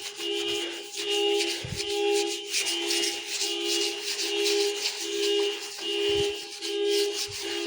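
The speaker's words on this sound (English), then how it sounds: "I'm applying it all over the oven now." Cleaner being spread and rubbed over an oven surface, a steady close scrubbing and rubbing with rhythmic strokes and a constant faint hum underneath, no voices.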